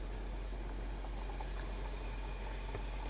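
Flour-coated catfish fry in hot grease in a pan, a steady dense crackling sizzle that holds at even loudness throughout with no voices.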